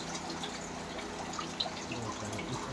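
Water from a homemade desi cooler drips into a bucket in quiet, irregular drops over a soft background hum, with no talking.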